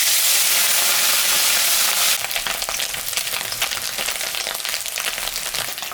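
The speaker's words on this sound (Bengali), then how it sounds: "মাছটা ভাজা হয়ে গেছে।" Puti fish fry in hot mustard oil in a pan, a steady loud sizzle with a crackling spit that thickens as the fish moves in the oil, continuous and close.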